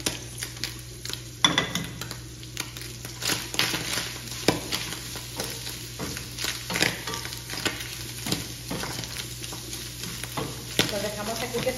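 Garlic and onion sizzling and frying in a pan with tuna for flautas, with steady crackling under repeated clinks and scrapes of a utensil stirring against the pan, and no talk.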